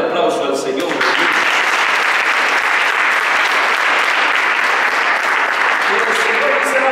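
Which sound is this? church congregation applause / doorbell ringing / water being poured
church congregation applause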